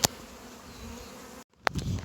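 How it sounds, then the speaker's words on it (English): A swarm of honey bees buzzes around a hive box in a dense, continuous hum. It cuts out for a moment partway through, then resumes with a sharp knock and louder nearby buzzing. "there's a lot of bees flying right now"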